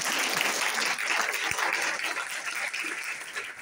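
An audience at a live beauty and makeup sales session claps weakly and steadily, a continuous dense patter of hands with no voices.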